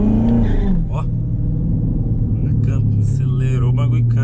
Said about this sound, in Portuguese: Acelerou, o bagulho canta.